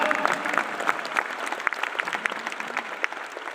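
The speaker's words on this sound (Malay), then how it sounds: "Bagi tepukan kepada tuan-tuan dan puan" An audience at an achievers' recognition event claps, the applause starting full and then thinning into scattered, sharper individual claps as it tapers off.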